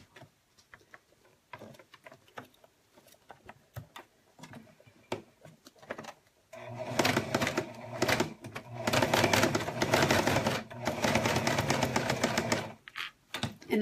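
A sewing machine with a rolling foot stitches across felt, starting as soft intermittent ticking and then breaking into loud bursts of rapid mechanical whirring.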